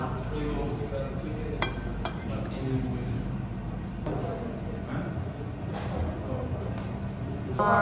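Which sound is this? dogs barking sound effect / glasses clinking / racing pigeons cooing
glasses clinking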